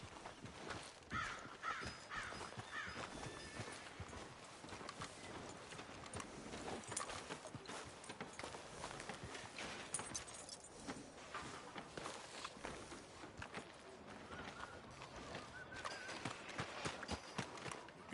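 Horse hooves clip-clop at a steady walking rhythm in the Western game Red Dead Redemption 2, quiet and continuous, with crows cawing now and then in the background.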